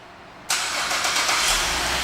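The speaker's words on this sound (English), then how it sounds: "and the car starts right up." A 2009 Buick Enclave CXL engine fires up by remote start after a short quiet stretch, catching abruptly and settling into a steady, fairly close idle.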